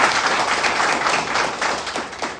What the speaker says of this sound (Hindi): एक बार जोरदार उनके लिए तालियां।